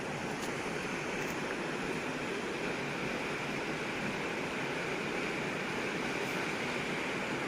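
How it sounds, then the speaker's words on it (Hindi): Rabandhara waterfall in Kalahandi pours in a dense, unbroken roar of falling water, loud and even throughout with no pauses. "एटा रावणधर वाटरफॉल देखंतु"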